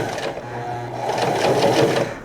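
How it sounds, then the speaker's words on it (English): A sewing machine runs a slow top stitch along the edge of a T-shirt, a close, steady mechanical whirring and rapid needle chatter that builds slightly in speed. "I'm gonna run a top stitch just to hold that edge together."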